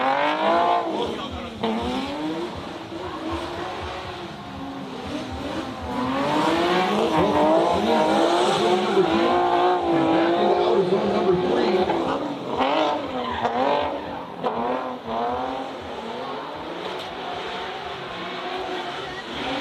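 Competition drift cars rev hard and squeal their tires through a run, with a continuous loud engine roar and shifting pitch sweeps as the cars slide past, while a commentator talks over the action.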